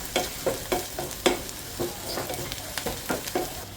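Onions and chili powder fry in a hot pan for a Kerala-style fish curry. A steady sizzle runs under repeated scraping strokes of a spoon, close up, with no talking.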